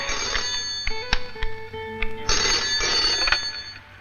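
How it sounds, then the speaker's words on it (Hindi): A telephone bell rings indoors at home, sounding in short bursts across the clip with a steady hum in the background. "फोन है।"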